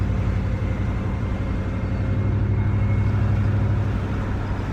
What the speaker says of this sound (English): the transfer case is broken, and having been driving it for just a little bit now, boy, I can really hear it whining